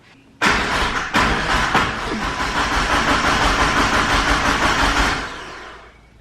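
A 1959 Ford 100E race car engine cranks over and catches, with a sharp knock near the start, then runs as a loud, steady, rough mid-pitched roar for about five seconds before cutting off.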